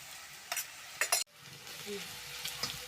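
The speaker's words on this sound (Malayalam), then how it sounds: "ചൂടായതിൻ്റെ ഇട്ട് കൊടുക്കാം കുറച്ച് ഉപ്പ് ഇട്ട് കൊടുക്കുക അന്നേരം പെട്ടെന്ന് സവാള മൂത്ത് കിട്ടും" Sliced onion with a pinch of salt fries in hot oil for a chicken dish, with a quiet sizzle broken by a few sharp stirring scrapes near the start and faint activity afterward.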